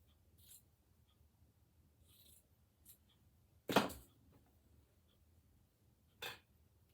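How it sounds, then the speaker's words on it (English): A few sparse snips of scissors cutting through material, with one louder, longer cut in the middle, quiet in between. "scissors."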